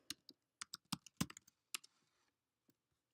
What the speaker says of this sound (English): what if I just typed in jgcontractors.com?